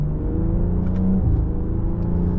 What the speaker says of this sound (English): BMW's transmissions are just so awesome. So fast shifting.